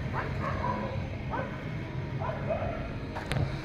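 Several dogs bark and yip in the distance, a few scattered calls over a constant low rumble of background noise.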